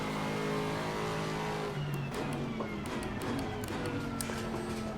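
Race car engine screaming around the Zandvoort circuit in the Assetto Corsa Competizione sim racing game: a steady, loud engine drone with shifting pitch and faint tyre squeal, no talk.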